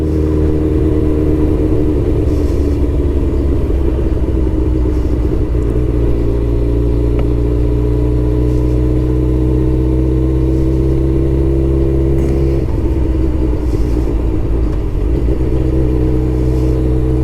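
A Suzuki GSX-R 1000cc motorcycle engine drones steadily while riding out, a loud continuous mid-pitched hum with small shifts in revs and a few gear-change dips, no talking.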